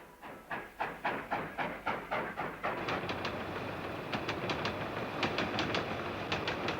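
A nearby train chugs with regular rhythmic puffs that quicken and blend into a continuous rumble, with hissing and clicking wheel beats.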